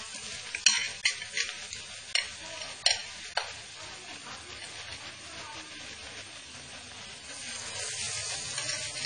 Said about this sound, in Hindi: इसी तरह हम और बड़ा तलेंगे